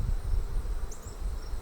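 A swarm of honeybees hums and buzzes up close around a hive box being fitted with frames, a dense, steady drone with a low, rumbling body.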